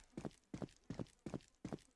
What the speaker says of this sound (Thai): อ้เสียงเท้า เอาว่ะเสียงเท้า